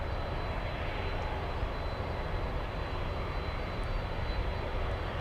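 A Lufthansa jet taxis across runway 12 at Miami International Airport, producing a steady, fairly faint engine hiss and rumble with a thin constant high whine, uniform and unbroken.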